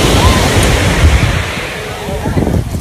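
Ocean waves wash up on a beach in Grenada, a loud, close, continuous surf roar with wind buffeting the microphone across the short stretch.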